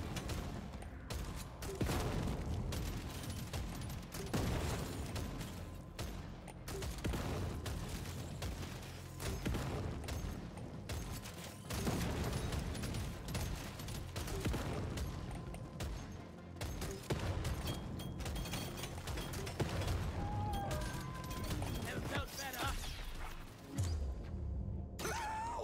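Grenade launcher blasts in the game Deep Rock Galactic Survivors: a dense, continuous barrage of explosions and rapid gunfire layered over game effects, loud and unbroken throughout.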